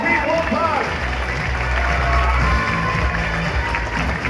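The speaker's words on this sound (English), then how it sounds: "Un tonnerre d'applaudissements, s'il vous plaît" Audience applause and cheering at the Paris premiere of Ghostbusters: Frozen Empire in 2024, a dense continuous wash of clapping from a large crowd under a low rumble.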